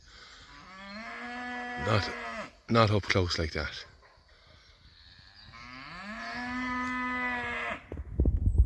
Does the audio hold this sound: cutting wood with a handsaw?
no